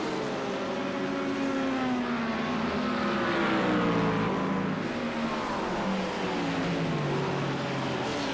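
Several GT3 race cars in the iRacing video game, racing on a road course in Georgia, drone and rise and fall in pitch as they rev and shift, with multiple engines layered and steady at close range.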